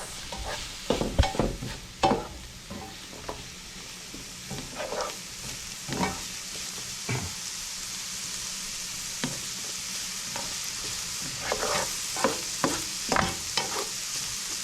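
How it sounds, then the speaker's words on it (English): Cassareep banga fish sautés with bora in a hot pan, a continuous close sizzle broken by frequent clinks and scrapes of a spoon stirring, without any talking. "I'm just gonna saute this up. I'm gonna add some bora to cook with this."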